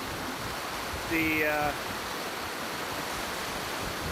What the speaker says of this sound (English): You can see the jets of water coming through where the 4 trip panels are down.